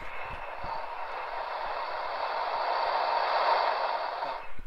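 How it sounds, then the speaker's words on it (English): Sun sonified from outer space: a steady, faint wash of hissing static that swells slightly toward the end, with a few soft crackles underneath. "Now, normally the sun sounds like this."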